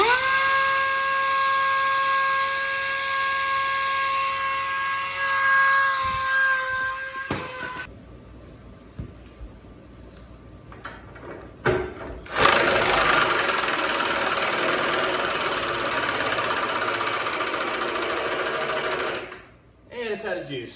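A pneumatic impact wrench whines and rattles at high speed, then falters and sputters weakly as its air runs out, with bursts of further running and hissing air, close by in a workshop.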